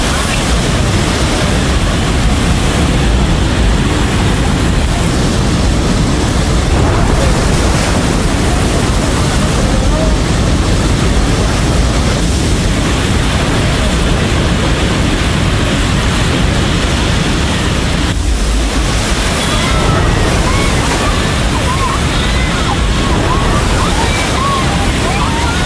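Flash flood water at the Nepal–China border rushes in a dense, continuous roar, loud and unbroken throughout, with no pauses or separate sounds.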